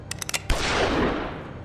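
A few quick clicks, then a single loud gunshot blast from a silver-bullet revolver in the video game The Wolf Among Us, ringing out with a long noisy decay.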